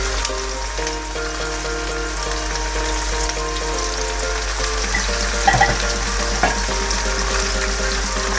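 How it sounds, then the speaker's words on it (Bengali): Onion, ginger and garlic paste fry in oil for Bangladeshi duck bhuna, giving a continuous sputtering sizzle with occasional stirring under background music. "রসুন বাটা দিয়ে এটাকে 2-1 মিনিট একটু কষিয়ে নিতে হবে"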